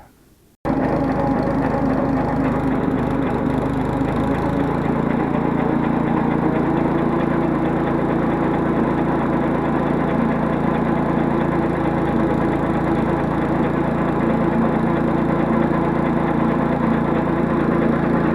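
A wood shredder driven by a Favorit motor chops branches outdoors. It starts abruptly and runs as a loud, steady engine roar with constant grinding and splintering, close up and with no talk, for the full length.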